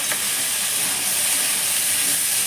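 Steam hisses steadily from a pan of mixed vegetables cooking with fish head as the lid comes off, a broad, even sizzle-like wash close by with no talking.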